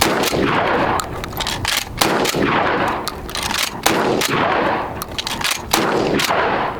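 A shotgun firing repeatedly: loud, close blasts about once a second, each with a sharp crack and a reverberating tail, with no voices.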